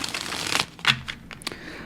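Tarot cards being shuffled by hand, a few quick papery riffles and soft slaps in short bursts, close and fairly quiet with no talk.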